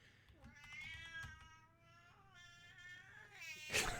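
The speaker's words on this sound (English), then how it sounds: "That is my cat." An indoor cat gives several drawn-out, wavering meows in close succession, fairly faint and alone against quiet room hum.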